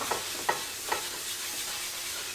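A cast iron pan being rubbed with oil gives a continuous soft hiss and scrubbing texture, with a few light knocks at the start, close and low in level.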